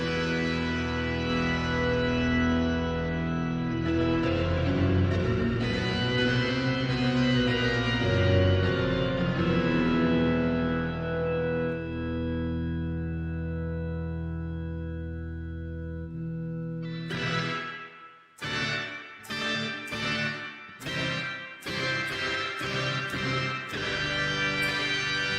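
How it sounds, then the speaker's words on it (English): Electric guitar fitted with a Floyd Rose style bridge, run through a wide echo effect in the PD Space Guitar iOS app: long sustained chords ringing and decaying, then a run of sharp picked notes with trailing repeats, fairly loud and alone. "wide echo, so plenty of options."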